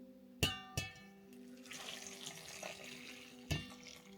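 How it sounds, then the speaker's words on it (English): Hot water poured over peppers, onions and bell peppers to soften them, with a few sharp clinks at the start, then a soft splashing trickle and another clink near the end. "So we're gonna pour the water in here."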